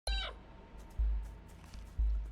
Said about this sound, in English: I love that little cat that says help.